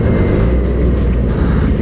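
A Yamaha R6 sport motorcycle is throttled hard while overtaking a Yamaha MT-07 on the road, a loud, close, continuous engine roar under heavy wind rumble.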